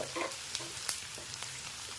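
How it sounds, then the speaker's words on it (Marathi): Chopped onion sautéing in hot oil in a pan, a soft steady sizzle with a few scattered stirring clinks and scrapes, close and moderately quiet. "कांदा चांगला आपल्याला परतून घ्यायचा आहे हलकासा सोनेरी रंग येईपर्यंत"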